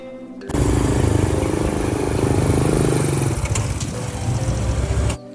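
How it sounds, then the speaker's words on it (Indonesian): An old, battered motorcycle pulls away, its mid-pitched engine droning loudly and steadily for several seconds before fading slightly. "Airin buru-buru keluar membawa uangnya, menaiki motor bututnya."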